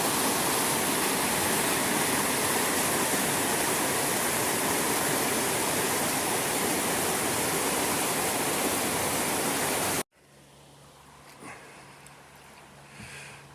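Upper Red River water rushing over rapids makes a loud, steady roar of broadband noise for about ten seconds before cutting off abruptly to quiet.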